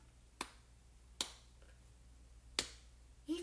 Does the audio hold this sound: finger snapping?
yes